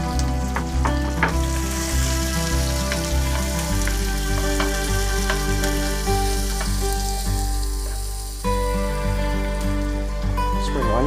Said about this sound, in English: First thing first, you want to go ahead and add your onion.